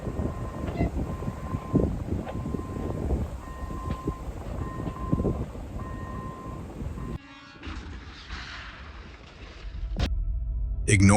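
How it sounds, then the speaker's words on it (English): Repeated crossing bell dings ring with rumbling train noise and talk, then the sound cuts to a different scene with a short loud blast. "Despite active warning bells ringing as the train approached"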